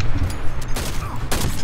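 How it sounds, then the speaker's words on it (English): Gunfire in the online shooter Dirty Bomb, a few sharp, loud shots in quick irregular bursts over a busy game soundscape, no voices heard. "I hear gunshots and it's from a pistol and it's shooting at me"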